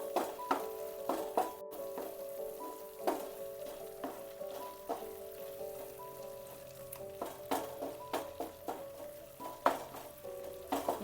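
Gravy sizzles softly in a pan while a spoon stirs it with repeated scraping strokes in a quiet, steady rhythm that keeps going throughout.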